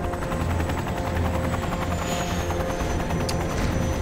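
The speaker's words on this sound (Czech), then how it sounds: "To jsme si tak zvesela jako proletěli helikoptérou, to je hezký." Helicopter flying in the video game Prototype 2, a dense continuous rotor and engine roar filling the whole stretch, with faint bursts suggesting gunfire in the background.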